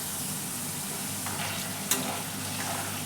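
Pieces of taro (arbi) sizzle and fry in a pan, a soft, steady crackling hiss with a few brief stirring clatters partway through and no talking.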